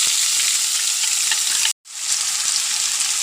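Garlic and shallots sizzle steadily in hot oil for a bitter gourd stir-fry, a dense, close frying hiss that drops out for a brief moment and then resumes.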